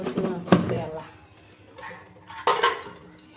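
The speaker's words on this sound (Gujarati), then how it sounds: "વાસણ ઘસી નાખું પહેલાં" Metal pots and utensils clatter and scrape as they are scrubbed. Two sharp clanks stand out among softer rubbing sounds, close by, and a voice is faintly audible.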